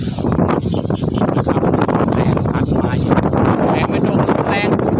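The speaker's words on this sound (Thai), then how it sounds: "ฝนก็จะตกแล้วนี่ฝนลมแรงแล้วนี่ ลมแรงมาแล้ว" Strong wind buffets the microphone on a riverbank just before rain, a loud, continuous gusty roar with rustling and rumbling throughout the short stretch.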